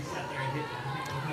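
A busy crowd chatters at a 12th Region high school softball final between Pulaski and Southwestern, a continuous murmur of many voices with a few clearer voices talking over it.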